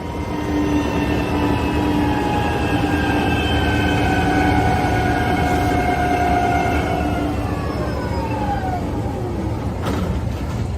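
Train wheels spinning and slipping on the rails, a loud steady grinding roar with high whining squeals that slide in pitch, continuous throughout with no voices.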